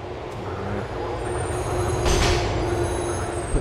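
A subway train pulls into a station in Grand Theft Auto IV, rumbling steadily with a rising hiss of brakes near the end, moderately loud.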